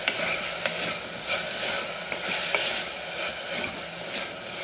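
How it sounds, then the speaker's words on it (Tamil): Ingredients for coconut milk rice sautéing in a pan with salt added, a continuous close sizzle with light scraping stirs breaking through now and then, no voices. "சேர்த்து இதையும் ஒரு வதக்கி விட்டுருங்க."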